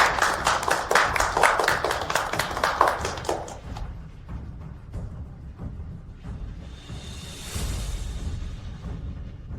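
An audience applauds a company director walking onto a stage at a business signing event. The clapping is loud and rapid at first, then thins into scattered claps and fades under room noise.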